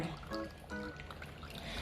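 Faint trickle and splash of water running through a classroom model filter of gravel and sand, heard under someone talking.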